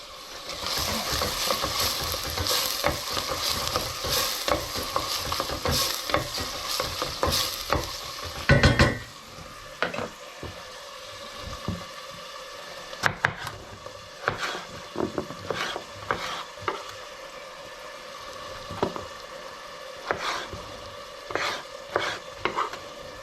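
Bacon sizzling and frying in a pan while being stirred, with scraping utensil strokes and a crackling hiss throughout, loud near the start and settling into steady frying with occasional clinks.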